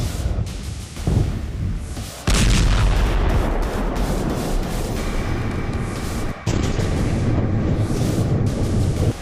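Explosions and artillery fire in the Syrian war: a sustained, loud barrage of booming blasts and rolling gunfire, with sharp onsets near the start and again midway, and no voices.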